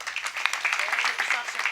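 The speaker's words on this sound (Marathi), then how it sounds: "भरा टाळी वाजवा" Clapping from the audience at a village kirtan, a short burst of many hands applauding together, moderately loud with a voice mixed in.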